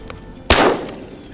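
A single gunshot fired at a shooting range target in rural Texas rings out sharply and loudly, then decays over roughly a second of echo above faint background noise.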